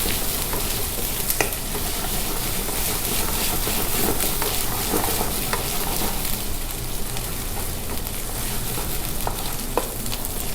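Two tablespoons of ginger garlic paste fry in a hot pan, giving a steady, loud sizzle throughout, with occasional scrapes and clinks from stirring and no talk.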